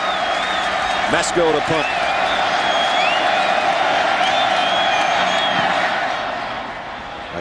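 A stadium crowd cheers and roars throughout at a Michigan versus Michigan State college football game, loud and sustained with whoops, while a commentator talks over it before the noise fades at the end.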